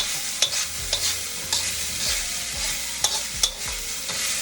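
Garlic chicken fried rice is stirred in a hot sizzling pan, with a spatula scraping and tapping at irregular intervals over a steady close frying hiss.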